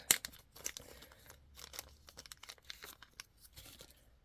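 Plastic packaging of stainless steel laser cut mountain links being torn and crinkled open by hand, close and quiet, with irregular bursts of crackling and ripping.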